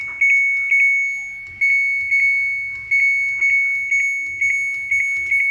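A Samsung washing machine control board gives repeated high electronic beeps in short pairs and triplets, loud and close, with a faint low rumble underneath.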